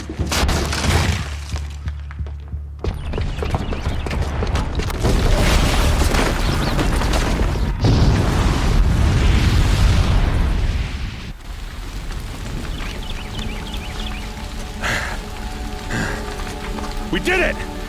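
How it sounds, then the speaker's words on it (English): A bomb detonates in Horizon Zero Dawn, with a sustained, loud rumbling roar and crashing debris that gradually subsides into a lower, steadier rumble, with speech faintly present. "the booby trap on the bomb downstairs is gonna get set off"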